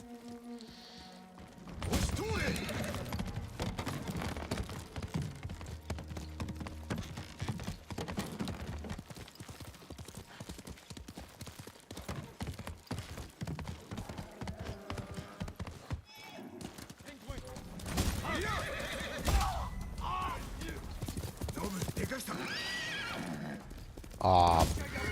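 A horse in a video game gallops in from behind with clip-clop hoofbeats and whinnies, set amid loud, busy game sound and thuds, with someone talking over much of it.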